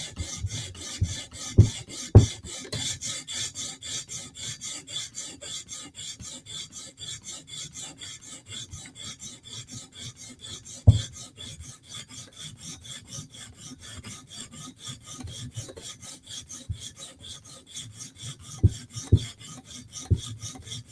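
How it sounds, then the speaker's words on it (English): A blade is sharpened with a file, giving a close, steady series of dry rasping strokes with a few sharper knocks scattered through, and no talking. "Let's sharpen."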